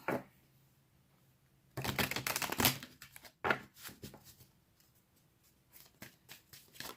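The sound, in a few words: shuffling tarot cards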